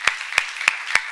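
Four sharp, evenly spaced claps ring out in a church seminar hall, a slow, deliberate rhythm of single hand claps with quiet gaps between them and no talk over them.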